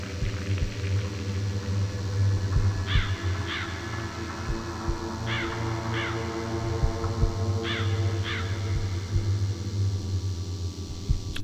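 Crows cawing in an eerie painting recording in the game The Lost Crown, harsh caws coming in three spaced pairs over a steady low drone with faint hiss, no voices.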